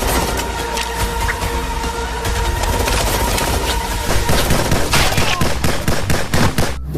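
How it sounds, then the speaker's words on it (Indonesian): A toy gun blasts loud, rapid electronic machine-gun and gunfire sound effects in a continuous burst that intensifies into sharp repeated shots toward the end. "Wah, tembak-tembakan mainan."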